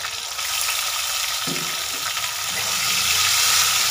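Chopped tomato and ginger fry in a hot pan: a loud, constant sizzle with occasional stirring knocks, and the hiss swells slightly toward the end, with no speech.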